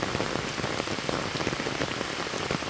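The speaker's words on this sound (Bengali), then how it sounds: "প্রচুর পরিমাণে বৃষ্টি এবং বিদ্যুৎ চমকাইতেছে।" Heavy rain with lightning pours down in a dense, steady patter on a surface, close and unbroken, with no voices.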